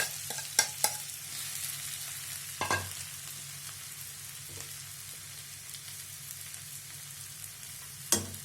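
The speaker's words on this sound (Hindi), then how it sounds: "अब यहाँ पर दाल को इसमें डालते हैं।" Chana dal sizzles softly in ghee in a pan, with occasional scrapes and clinks of a spoon stirring, the frying hiss steady and fairly quiet throughout without talk.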